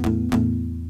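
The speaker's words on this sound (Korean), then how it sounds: "팝뮤트를 해주면" Acoustic guitar struck with a pop mute, the hand edge resting near the saddle: two short percussive strums over a sustained low harmonic ring, close and alone.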